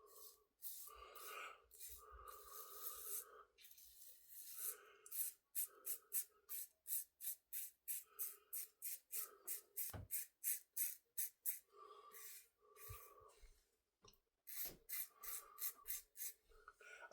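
Razor with new blades scraping over skin during a wet shave, repeated rasping strokes in steady rhythm, some longer and some quick and short, close and fairly quiet with no talking.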